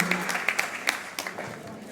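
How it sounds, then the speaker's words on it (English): An audience at a challah bake gives a round of applause, a light, scattered clapping with a few sharper individual claps and some voices underneath. "Round of applause for a great mom."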